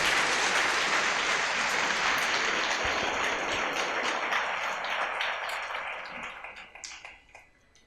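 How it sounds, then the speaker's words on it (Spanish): Church congregation applauding during a sermon, a full, continuous roar of clapping that holds steady and then tapers off into scattered claps near the end. "Dale un aplauso a Jesús por ello."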